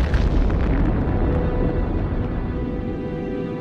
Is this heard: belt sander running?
no